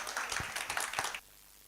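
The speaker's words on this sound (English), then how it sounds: "So ladies, let's put our hands together as we welcome Anna Maria Mwachinga." Audience applause at a women's leadership book launch in a hotel event space, a burst of clapping lasting just over a second before cutting off abruptly to near quiet.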